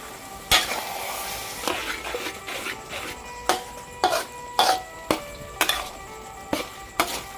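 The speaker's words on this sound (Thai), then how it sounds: "ให้ผัดไปผัดมาอีกสักแป๊บหนึ่ง จนกว่า ซอกมะเขือจะแห้งกว่านี้ค่ะ" Long Thai eggplant with fish sauce is stir-fried in a pan, with a spatula scraping and tossing in a regular rhythm of about a dozen sharp strokes over a soft sizzle. No one speaks.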